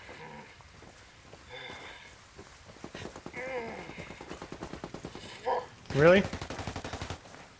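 Rapid gunfire bursts in a shooter video game, repeated crackling shots under ongoing voice chat, with a louder burst near the end.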